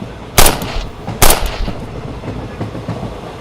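Two sharp gunshots from a pistol ring out in quick succession in a Bengali horror audio story, each a loud close crack with a short echoing tail, followed by quieter thumps over a steady background hum.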